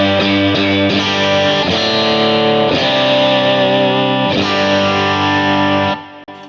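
A bright PRS SE Custom 24 semi-hollow electric guitar, bridge pickup split to single coil, strums sustained chords with a thin, twangy tone, loud and close, restruck several times before fading out.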